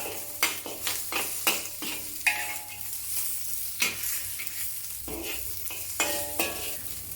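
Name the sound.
stir frying scallion and onion for chili chicken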